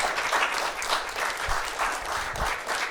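A club audience at a comedy roast in Granby applauds the staff, a steady wash of clapping with a few louder thumps, moderately close and without speech.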